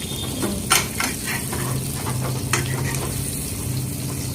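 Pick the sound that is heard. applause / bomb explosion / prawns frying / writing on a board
prawns frying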